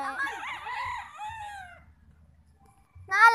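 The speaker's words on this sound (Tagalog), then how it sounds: "Janun na mga manok." A rooster crows loudly and close on a game farm in Cebu among chickens, one long drawn-out cock-a-doodle-doo followed by a short pause, then a second crow beginning sharply.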